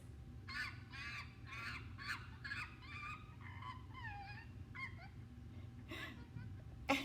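A chimpanzee calling in a rapid series of rising, hooting cries, about a dozen bursts pulsing in quick rhythm over a low background rumble, moderately loud and heard alone without speech.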